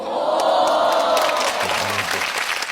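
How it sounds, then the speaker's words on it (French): Crowd applause and cheering after an FC Barcelona comeback win over Benfica, a loud burst of clapping and roaring voices that stays dense and close for a few seconds. "laissez-moi applaudir le FC Barcelone"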